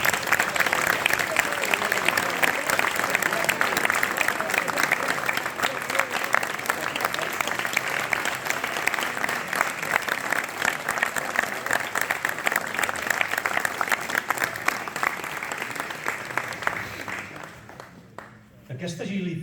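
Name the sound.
audience applause at a concert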